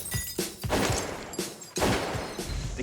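An M2 heavy machine gun fires in short bursts, a few heavy booming reports with echoing tails spaced irregularly, loud but somewhat distant, with no voices.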